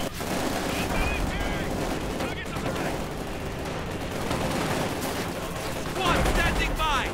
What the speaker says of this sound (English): Heavily equipped with their PPG-841s opening up there on the Grenadiers.